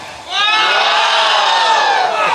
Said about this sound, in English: let's all in unison say and cheer our beautiful contestant with a loud shout out of wow